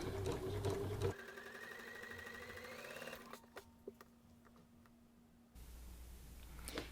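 A sewing machine stitches quilt block fabric in short runs, a fast whirring hum that stops and starts with faint clicks between bursts, close and fairly quiet.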